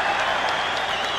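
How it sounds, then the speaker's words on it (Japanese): Spectators at a WBA super featherweight title boxing bout in an arena roar and clap in a continuous, dense crowd din, loud and filling the space for a brief moment. "8000人のお客さんがわーっとばかりに歓声を上げました。"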